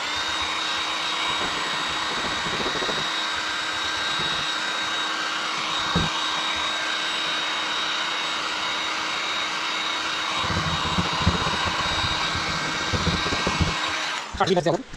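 A fan blower runs flat out at high speed while old vinyl lettering is being removed, giving a loud, steady whooshing roar throughout, with a few knocks and brief voices near the end.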